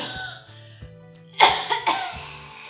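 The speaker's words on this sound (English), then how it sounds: "Would you just mind, covering your mouth when you cough?" A person coughs openly without covering the mouth, a few loud, harsh bursts close by after a quieter stretch with a low background hum.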